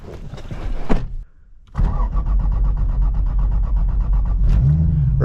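A 600-horsepower Lexus IS300 starts with a short burst, drops briefly to near silence, then settles into a loud, steady engine roar that builds slightly toward the end, heard up close.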